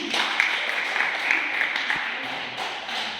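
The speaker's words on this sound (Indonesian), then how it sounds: "Kita berikan tepuk tangan." Brief applause from an audience for a group presentation at a bakery training event, moderate scattered clapping with some voices mixed in.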